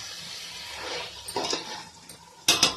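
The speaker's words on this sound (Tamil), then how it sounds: "இதை நம்ம போட்டுக்கலாம். நல்லா மிக்ஸ் பண்ணி கிளறி விட்டுக்கலாம்." Prawns stirred into masala in a cooking pot for prawn biryani, with a spoon scraping and clinking against the metal pot in short bursts, quiet and close, with a few sharper clinks near the end.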